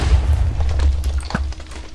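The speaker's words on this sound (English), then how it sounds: "whoever has a cannon is already set up too" Cannon blasts in Minecraft: a low, rumbling boom sustains through the first second, followed by scattered smaller thuds and pops that fade into a quieter tail.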